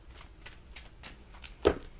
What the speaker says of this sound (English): They're asking me to shuffle one more time.